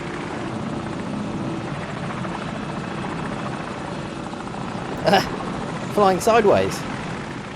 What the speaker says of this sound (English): Oh yeah, helicopter. Enemy helicopter, get down. He's circling back around.